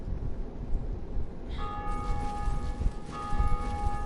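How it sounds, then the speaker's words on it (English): Bell ringing in the video game Dark Souls Remastered, a sustained, distant-sounding metallic toll that rises from a low ambient rumble partway through and rings on. "Apparently somebody rang the bell in their world."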